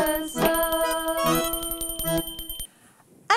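Hand bell rung with a rapid, bright jangling peal of repeated strikes for about two and a half seconds, close and clear, then cut off abruptly into near silence.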